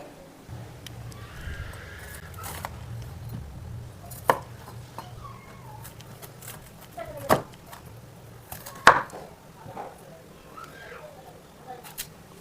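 Bitter gourd and onion cut with a knife on a board, giving a few scattered sharp knocks spaced seconds apart against a low background hum, close by and fairly faint.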